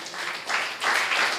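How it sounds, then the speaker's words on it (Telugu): A church congregation claps during a Sunday service, a dense broadband wash of applause swelling in bursts over about a second and a half, fairly close and steady, with no clear talk on top. "చప్పట్లు కొడదాం"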